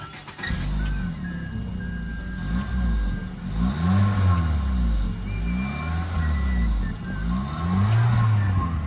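A car engine revs up and down in repeated swells, with crackling exhaust pops and light clinks mixed in, heard fairly close and loud throughout.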